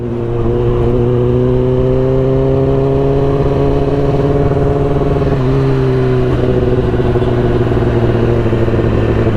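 A Kawasaki ZX10R sportbike fitted with an SC Project exhaust roars loudly and close, holding a steady, heavy engine drone with a brief dip in pitch midway.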